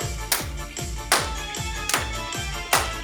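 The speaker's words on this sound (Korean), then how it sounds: "박수 칠게요." A group in a seniors' exercise class claps hands in a slow, steady rhythm, four sharp claps spaced under a second apart, close and loud over faint background.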